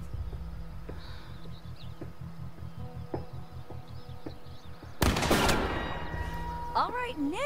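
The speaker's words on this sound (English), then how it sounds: "Remember the spread, remember the recoil. This is a shotgun." A shotgun fired in The Quarry horror video game, heard as a sudden loud blast that cuts through the low rhythmic pulsing background, followed by a lingering ringing tail and chirpy forest ambience.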